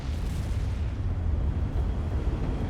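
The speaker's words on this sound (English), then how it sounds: "Artillery" Artillery fire in the strategy game Supreme Commander: Forged Alliance rumbles as a dense, low, booming barrage, steady and loud for a few seconds.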